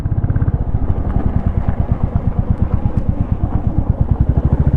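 A 2025 Royal Enfield Classic 350 motorcycle rides over light off-road ground, its exhaust thumping in a fast, even, close pulse with no talk.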